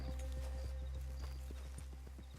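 Horse hooves clip-clopping in the Western game Red Dead Redemption 2, a steady, even walking rhythm of hoof falls over a constant low ambient hum, moderately close and unaccompanied by talk.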